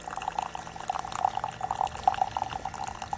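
A Keurig K-Mini single-serve coffee maker brews with its reservoir filled to the 12 mark, giving a steady, close trickle of liquid with quick drips and gurgles.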